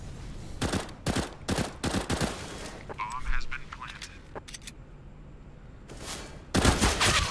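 Counter-Strike: Global Offensive pro match gunfire, with loud bursts of rapid automatic shots in separate clusters, over excited commentary.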